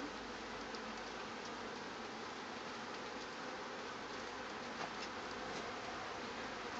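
Honeybees hum from an open hive, a dense continuous buzz of many insects close by, steady and even throughout.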